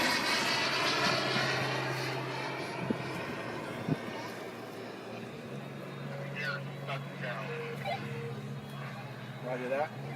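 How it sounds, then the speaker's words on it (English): Model jet airplane engine running at an air show, a loud sustained whine and roar that shifts in pitch as it passes, with people talking nearby. "So I'll stop talking and let you kind of enjoy the jet."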